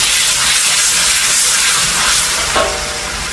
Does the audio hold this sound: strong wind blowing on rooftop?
no